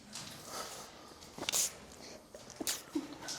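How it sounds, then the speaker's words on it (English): A single sharp sneeze bursts out around the middle, followed by a smaller snort or sniff, with quiet shuffling room noise around it, inside an abandoned jail. "I gotta sneeze."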